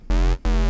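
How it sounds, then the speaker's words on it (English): Two short, deep square-wave bass notes from the Vital synth, shaped as a subtle UK garage bass, each a buzzy, harmonically rich tone with a clean start and quick cut-off, played alone. "create a subtle UK garage bass that you can use in a more melodic tune"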